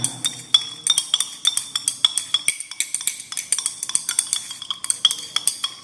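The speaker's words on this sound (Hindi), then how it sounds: "ये पोटासियम हाइड्रोक्साइड को पानी में डाल के इसे अच्छे से मिक्स करना है केयरफुली।" Potassium hydroxide is being stirred into water in a glass vessel, making a quick, regular run of bright clinks as the stirrer strikes the glass. The strokes are close and come one after another with no speech.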